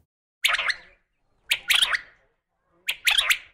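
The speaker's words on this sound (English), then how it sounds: "Quail." Three short bursts of bright, chirpy quail calls, each a quick cluster of notes separated by about a second of silence, close and fairly loud.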